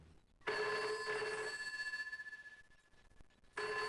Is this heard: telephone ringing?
yes